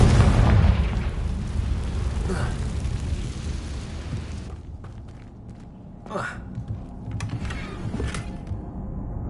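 A Confringo blasting spell goes off in Hogwarts Legacy, a loud booming explosion with a heavy low rumble that fades over several seconds, followed by quieter game ambience and brief whooshes.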